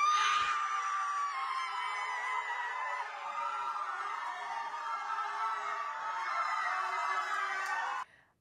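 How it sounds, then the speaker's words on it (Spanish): A family screams together in celebration, re-enacting a Venezuelan Miss International win with one loud, sustained chorus of high voices lasting about eight seconds before cutting off. "¿Cómo fue el grito cuando dijeron Miss Internacional de Venezuela?"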